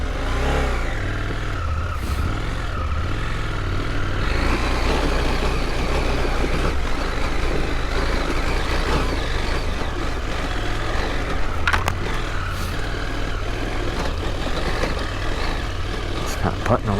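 A KTM 790 Adventure R motorcycle engine lugging along in second gear on a casual day ride, a steady low rumble that stays close and loud throughout, with a voice talking over it.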